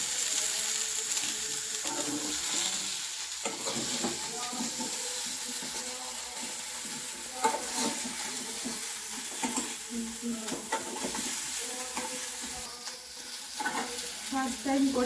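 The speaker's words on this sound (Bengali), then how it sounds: "আলুটাকে নেড়ে নিচ্ছি।" Potatoes and cauliflower frying in a pan for fish curry are stirred in irregular scrapes over a soft continuous sizzle, moderately close, with faint voices in the background.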